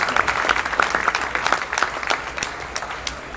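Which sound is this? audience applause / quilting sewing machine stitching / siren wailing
audience applause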